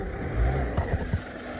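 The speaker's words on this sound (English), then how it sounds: "the engine sounds fine." A 2010 Ford Fiesta Zetec diesel idles close by with a low steady rumble and a few soft clattering knocks, the engine running on its own without talk.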